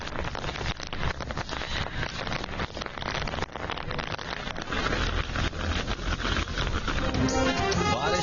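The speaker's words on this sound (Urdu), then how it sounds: "پانی سے بھرے بادل برسے" Heavy rain pours down in Karachi, a dense, continuous hiss and patter on surfaces, loud and close, steady throughout and swelling slightly toward the end.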